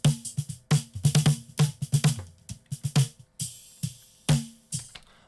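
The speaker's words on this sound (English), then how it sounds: "The snare drum sounds like this" A close-miked, heavily processed snare drum plays a solo pattern of sharp hits, some in quick clusters and others spaced out, each with a short bright crack and a few longer noisy tails, fairly quiet overall with no talk.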